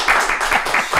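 Applause from a podcast audience or studio group, a burst of hand clapping with uneven rhythm, loud and close, lasting about a second.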